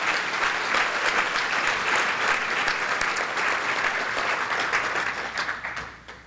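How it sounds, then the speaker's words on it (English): A crowd at a trustees' annual meeting gives a dense, sustained round of applause, steady and fairly loud for several seconds before tapering off at the end. "So can we have another round of applause for these incredible trustees?"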